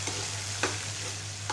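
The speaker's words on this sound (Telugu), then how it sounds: "పచ్చిమిరపకాయలు కరివేపాకు వేసుకొని ఫ్రై చేసుకోవాలి" Green chillies and curry leaves frying in hot oil for a drumstick pulusu crackle with a close, steady sizzle, broken by a couple of sharp spatters or stirring scrapes, no talking.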